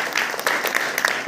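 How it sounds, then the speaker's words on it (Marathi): Applause for a donor at a school Republic Day gathering in Raigad, a dense, steady clatter of many hands clapping close by without a break. "अशा प्रकारचं वैभव भोसले याच्यासाठी एक जोरदार टाळ्या"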